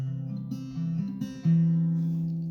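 An acoustic guitar picks an accompaniment pattern, a few soft plucked notes ringing close and alone before a sustained low note lets ring and fades.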